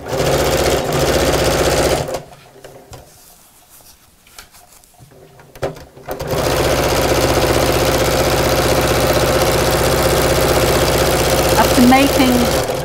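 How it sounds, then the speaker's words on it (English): A sewing machine stitches the final side seam of a fabric tote bag, a loud close mechanical whir that runs, stops for a few seconds of quiet, then resumes steadily to the end. "Matching up the seam at the side, and we'll sew down the final side."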